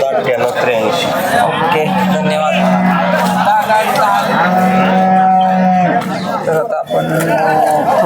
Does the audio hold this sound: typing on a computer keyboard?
no